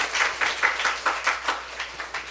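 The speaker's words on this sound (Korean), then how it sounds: "말씀 주실 하나님께 박수부터 한번 해주십시오." A church congregation claps in rhythmic unison at a Sunday service, about ten sharp, evenly spaced beats filling the room with no talking over them.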